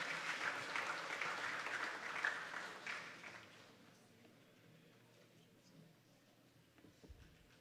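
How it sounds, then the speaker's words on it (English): Applause from an audience at a secondary school graduation ceremony rises at first, then fades away into a quiet room with faint background murmur and a thump near the end. "Can we give him a nice round of applause as he comes"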